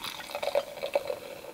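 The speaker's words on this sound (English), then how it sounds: "Just pouring it and looking at the bubbles and the froth is fun." White wine poured into a glass inside a small camper van gives a brief, quiet trickle with a few soft gurgling glugs, close by and heard alone.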